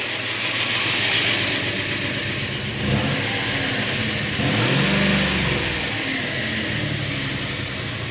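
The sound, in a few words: abandoned Subaru car engine running and revving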